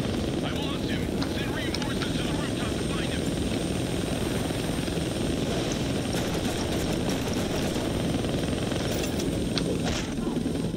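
Helicopter rotor and engine noise fills a Deadpool video game scene, a loud, continuous thrumming roar with rapid chopping throughout.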